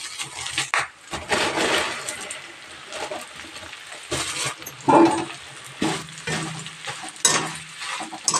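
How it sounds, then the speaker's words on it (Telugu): Flattened rice, atukulu or poha, is tipped into a pan for an evening snack, giving a soft dry rustling and light sizzling with scraping stirs, and a few scattered louder clatters. "చూడండి, అటుకులు అయితే వేసుకుంటున్నా"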